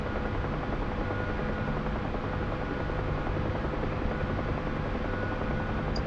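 A helicopter in flight during practice flying, heard as a dense, steady rotor and engine roar with a constant chopping texture, loud and close for the whole stretch, no talking.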